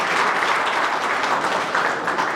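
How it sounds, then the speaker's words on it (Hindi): Steady, dense applause from a crowd at a village panchayat gathering in Devli honouring a newly appointed BJP district general secretary, loud and continuous throughout. "वैसे पंचायत में ताली तो बजाई जाती थी,"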